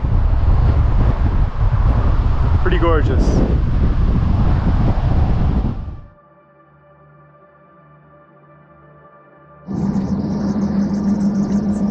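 Loud gusting wind buffets the microphone at a viewpoint along the Seward Highway on Alaska's Kenai Peninsula for several seconds, then drops to a quiet hum before roaring back; someone briefly speaks under it.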